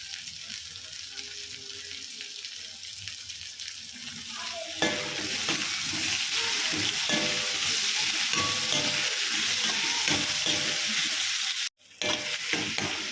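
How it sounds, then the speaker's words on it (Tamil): Chopped tomatoes sautéing in a pan for a roadside-stall style salna, a quieter crackle that swells into a loud, continuous sizzle after a few seconds, with one brief break near the end. "அதையும் சேர்த்து நல்லா தக்காளி மசிகிற அளவுக்கு நம்ம வேக வச்சுக்கலாம்"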